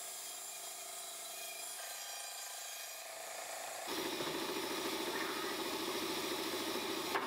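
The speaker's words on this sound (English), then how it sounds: "then I went over to the bandsaw and first cut off some of the excess stock" A bandsaw cuts along a marked line in wood stock for an axe handle, a steady mechanical whine that swells louder and rougher as the blade enters the cut partway through, continuing without talk.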